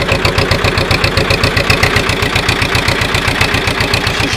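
An old-style diesel tractor engine runs cold after starting, its loud, steady rapid chugging knocking close by with an even rhythm throughout.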